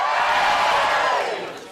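Studio audience at a televised stand-up comedy show cheering loudly in response to the comedian, a dense wash of crowd whoops and cheers that gradually fades toward the end.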